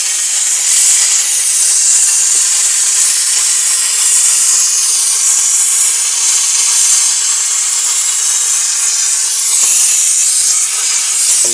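A Flgocexs steam cleaner gives off a loud, steady hiss of steam while cleaning, running continuously and alone without any speech.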